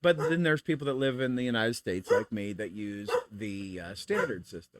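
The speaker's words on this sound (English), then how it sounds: "if you can hear her barking in the background" A pet dog barks intermittently in the background of a home, its short yaps mixed under continuous close speech from someone talking throughout.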